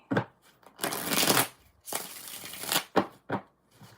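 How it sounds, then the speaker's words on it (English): A deck of reading cards is shuffled in several quick riffling bursts, close and crisp, with short pauses between them and no talk. "Three more shuffles."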